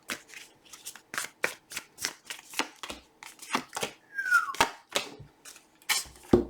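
Tarot cards being shuffled by hand, a rapid run of crisp riffling and slapping bursts, close and loud, with no talking.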